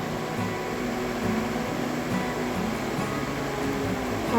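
Steady bubbling hiss of a sardine curry boiling in a pot, continuous and fairly loud with no speech over it.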